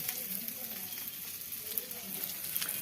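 Pieces of chicken fry in a hot pan at a village cooking spot, giving a steady close sizzle with faint scraping as the pieces are flipped.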